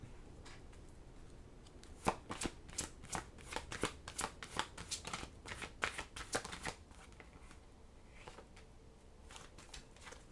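Oracle cards being shuffled by hand, a close series of quick riffling and slapping bursts that builds, then fades to softer handling near the end, with no talk.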